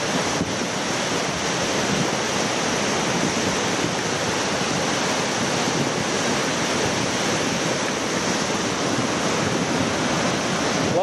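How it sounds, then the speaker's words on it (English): A flooded river rushing past loaded with debris, a continuous loud broadband roar of churning water with wind buffeting the microphone, steady and unbroken with no voices. "Lots of debris coming down the river."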